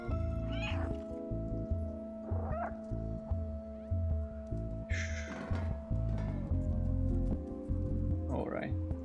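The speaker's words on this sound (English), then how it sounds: "I thought it said to press meow to attack them." Cat meows from the video game Stray, several short calls spaced through the stretch over steady game music and ambience, clearly heard above the background.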